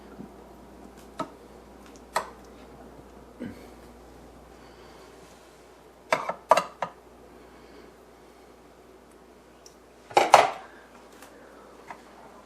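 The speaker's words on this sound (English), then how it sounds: "take a spoon and press the mixture further into the cup" A spoon presses Denver muffin mixture into muffin cups, giving sparse, light taps and clinks scattered over a quiet background, with a small cluster of louder knocks near the end.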